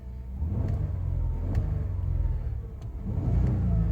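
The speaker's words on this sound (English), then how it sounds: "I'll rev the engine." A 2021 VW Atlas Cross Sport's VR6 engine revs at idle, a steady close mid-pitched rumble that swells and eases in a few blips, with no talk over it.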